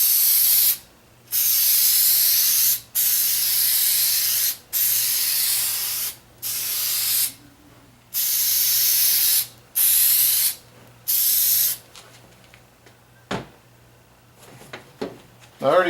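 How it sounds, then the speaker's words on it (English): An aerosol can of spray adhesive hisses in about seven loud, steady bursts with short pauses between them as it coats a custom seat cover for a Saturn Sky, followed by quieter rustling and handling. "let me go ahead and spray the adhesive on this bad boy"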